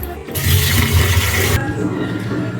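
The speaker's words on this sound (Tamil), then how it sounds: "இப்போ தண்ணி ஊற்றி ஊற வச்சுருக்கிறேன்." Water pours in a loud, rushing stream over soaking urad dal and fenugreek, close by, for about a second before easing into a quieter flow.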